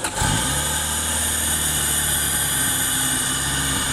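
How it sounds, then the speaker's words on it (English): A Honda Civic EF with a B18C4 engine idles steadily after a brief rise at the start, a loud, continuous close-up drone with a strong low hum and no talk. "you can see the car running a bit"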